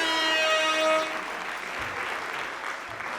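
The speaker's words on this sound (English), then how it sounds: "Give him a round of applause." A comedy audience at a stand-up show in Harrow breaks into applause, a steady wash of clapping that follows a brief tonal sound and carries on for about two seconds.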